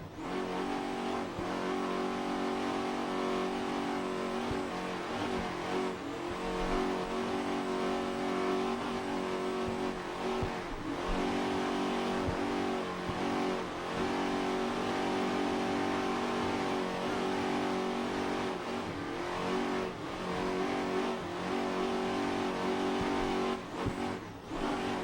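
Class 6 offshore racing powerboat number 9 with Crockett Marine engines races at Biloxi, Mississippi: a continuous loud engine roar with rising and falling revs and a strong, steady drone throughout.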